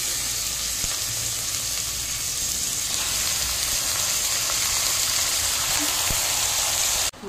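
About 1.5 kg of mutton tips into a pressure cooker and sets off a loud, steady sizzle and hiss that runs on unbroken, then ends abruptly with a clatter.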